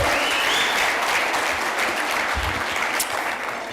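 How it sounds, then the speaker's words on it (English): Guests at a university chancellor's fundraising gala dinner clap loudly and steadily for the university choir, a thick, close wash of applause with a few whoops and a faint low rumble underneath. "Can we clap again for the Nelson Mandela University Choir?"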